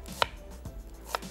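An onion being chopped on a cutting board in a home kitchen: a few sharp, close knife knocks spaced irregularly, with quiet pauses between them.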